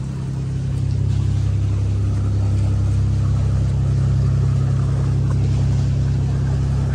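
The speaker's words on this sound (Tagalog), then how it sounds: "Speedboat." A speedboat engine drones loud and close near a Palawan beach, a steady low rumble that swells slightly and holds throughout.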